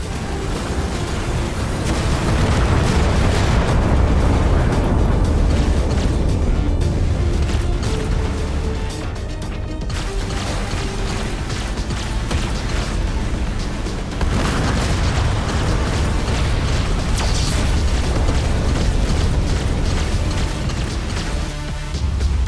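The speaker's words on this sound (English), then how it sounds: "Torpedoes incoming." Heavy, continuous booming blasts of torpedoes striking a starship's hull in the space combat game Everspace 2, loud rumbling impacts layered over one another for the whole stretch with no pause.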